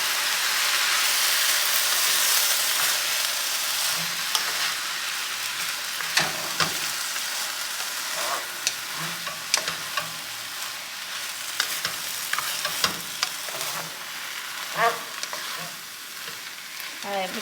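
Fried rice sizzles steadily in a pan while a spatula stirs and scrapes it, with repeated sharp clicks and knocks against the pan over a constant frying hiss.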